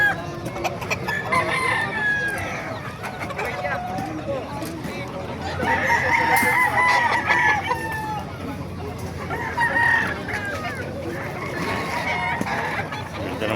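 Roosters crow repeatedly and chickens cluck amid the murmur of a busy outdoor Bocaue tiangge market, the crows rising loud and close in bursts over a steady crowd background.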